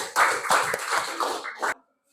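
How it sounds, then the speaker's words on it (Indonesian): A classroom of students claps for a presenting group, a short burst of uneven close hand claps lasting under two seconds before stopping abruptly into silence. "Ayo tepuk, kasih aplaus dulu untuk kelompok Al-Qudus"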